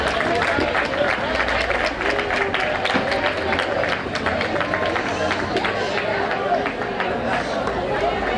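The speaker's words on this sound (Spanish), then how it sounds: "Un fuerte aplauso" A crowd applauds the youngest girl at a neighbourhood festival in Churriana, sustained loud clapping mixed with lively chatter and cheering voices throughout.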